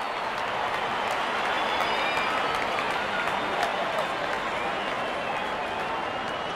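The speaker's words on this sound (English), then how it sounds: "Wonderful 50 and the crowd applauds." Cricket crowd at a Zimbabwe v Netherlands match applauding a batsman's fifty, a steady, dense wash of clapping and cheering that holds at an even level throughout with no speech.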